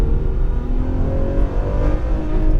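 Ferrari F12 Berlinetta V12 accelerating out of a downhill corner on a track, a dense, loud engine roar with climbing pitch, sustained and close, no speech.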